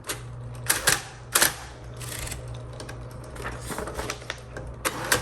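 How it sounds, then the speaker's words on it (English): Mechanical clacks and a few sharp bursts of a 1960s Smith Corona Coronet Automatic electric typewriter's carriage being returned, with a faint electric hum beneath, close by. "you kind of have to hit the return handle a couple times to kind of set that tab"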